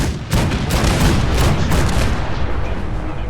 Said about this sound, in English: Soldier, man the cannons.